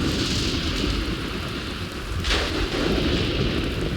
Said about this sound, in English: we have a nice thunderstorm this morning